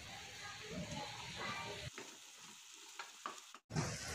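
Boiled moringa drumstick pods are tipped into spiced masala frying in a pan for a village-style sabzi, then stirred. A steady close sizzle fills the first half, then drops away to quieter scraping and a few sharp knocks.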